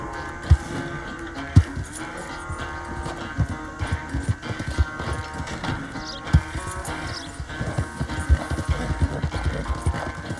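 A horse's hooves beat in Red Dead Redemption 2, a steady clip-clop rhythm of distinct strikes, moderately loud over a quiet game ambience with an occasional faint whinny.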